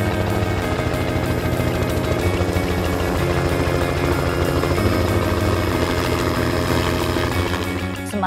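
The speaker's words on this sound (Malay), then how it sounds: "Tiba-tiba mereka terdengar bunyi helikopter di pertengahan taklimat." Helicopter arriving over a nature briefing, a loud, continuous rotor and engine drone nearby with steady thumping pulses, no voices over it.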